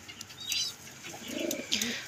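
Several soft, low pigeon coos roll along in short phrases, with faint higher chirps and rustling around them.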